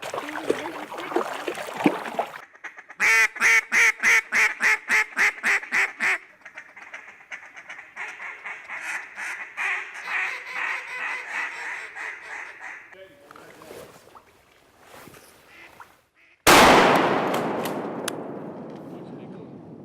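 Mallard ducks quack in rapid repeated bursts during a late-season duck hunt, alternating with gunshots, a sharp loud blast near the end, and people talking nearby.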